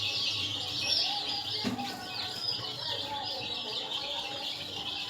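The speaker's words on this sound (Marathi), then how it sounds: "आपले गावरान कोंबडीचे पिल्ले आहेत।" Village desi chicks in a brooder, a steady flock of high peeping chirps from several birds close by, continuous throughout with soft background rustle.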